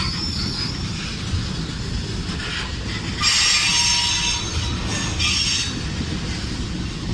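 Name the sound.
long train passing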